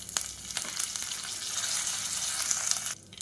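Whole spices such as cloves and cardamom with curry leaves crackle and sizzle in hot peanut oil inside a cooker, a dense close frying hiss that swells and holds before cutting off abruptly near the end.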